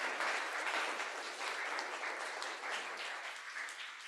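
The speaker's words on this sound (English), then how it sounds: "If we can have one more round of applause for our wonderful colloquium speaker." A university linguistics colloquium audience applauds a speaker, a steady, dense round of clapping held at even loudness for the whole stretch with no voices over it.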